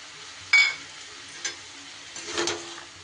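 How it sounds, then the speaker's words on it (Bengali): A spoon stirs cashews and raisins frying in a korma pan, with a sharp scrape, a lighter tap and a soft sizzling stir near the end, close and fairly quiet with no talk. "খুব ভালো করে আরও একটু সময় আমি নাড়িয়ে নেব।"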